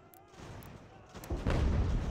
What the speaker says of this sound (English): Let's allow our mortars to do some damage.